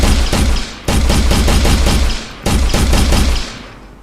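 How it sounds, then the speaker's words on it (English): Rapid pistol fire in a video game comes in dense, loud bursts of repeated shots, with two short pauses between volleys and the last burst fading out, and no speech over it. "if we hit play, we can pull out our pistol"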